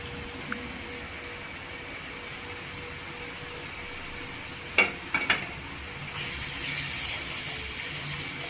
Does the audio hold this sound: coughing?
no